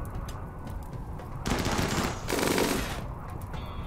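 A heavy gun line firing in the colony game Rimworld, a dense continuous stream of automatic fire with two louder rattling bursts in the middle, set against a constant game background.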